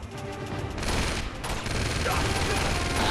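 M4 rifle gunfire in the video game Uncharted 2: Among Thieves, a dense continuous rattle of rapid shots and impacts sustained at a loud, even level through the whole stretch.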